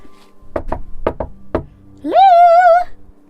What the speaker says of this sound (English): let's knock on the farmhouse door.